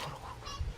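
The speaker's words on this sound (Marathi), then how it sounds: "आता कोंबड्या ओरडत" Chickens squawking, a short honking cackle rising at the end, close and fairly loud, with no talking.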